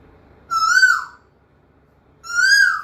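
A woman imitates the call of a koel with her voice, two rising, whistled hoots separated by a short pause, clear and close with no other sound around them.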